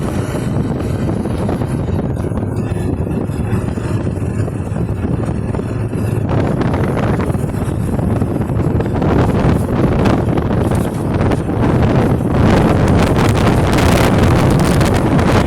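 Strong wind buffets a motorbike rider's microphone on a high mountain road in Arunachal Pradesh between Bhalukpong and Dirang, a loud continuous rumble that surges in gusts, with no one talking.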